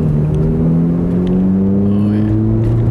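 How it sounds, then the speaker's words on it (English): A 3-valve Ford Mustang V8 idles and revs through its muffled exhaust, a deep, loud, steady rumble with slowly rising pitch, heard close without other sounds. "It sounds like it has an actual exhaust that is muffling the sound quite a bit."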